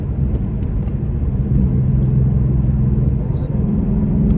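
Engine and road rumble from a '66 car cruising at 65 mph through winding curves, a steady low drone heard from inside the cabin with a voice talking over it.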